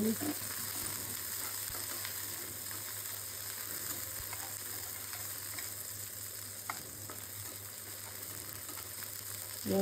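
Onion fries in hot oil with a dense, continuous sizzle and crackle, close and steady for the whole stretch, punctuated by faint stirring scrapes and no voices.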